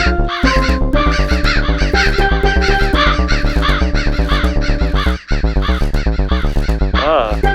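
Rhythmic crow caws repeat in time with a loud, busy musical backing of bass, steel drums and guitar, with a final caw near the end.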